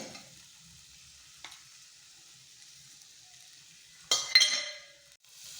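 Carrots and peas frying with spices in a pan for masala rice give a steady, faint sizzle. Near the end a louder burst of stirring and scraping comes in, with no voices.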